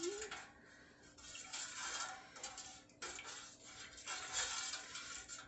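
Dye powder is stirred into water in a container for dyeing red sock yarn, giving a faint, steady swishing and scraping with brief pauses, close by and quiet, with no talking.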